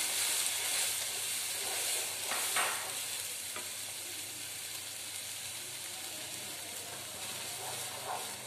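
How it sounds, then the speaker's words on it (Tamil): Mushroom gravy with blended puree is mixed in a pan, giving a steady, fairly loud sizzling hiss throughout with only a few soft stirring scrapes and no talking. "நல்லா மிக்ஸ் பண்ணிக்கோங்க."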